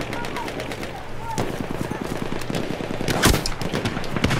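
Rapid gunfire in the video game Battlefield 1, a fast run of close, evenly spaced rifle or machine-gun shots with a louder blast near the end.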